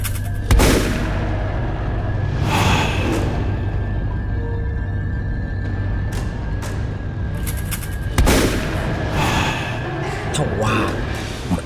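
Shotgun fired at a ghostly figure in a 3D horror story, two loud booming blasts several seconds apart with rumbling tails, set against dark ambient music and a narrating voice.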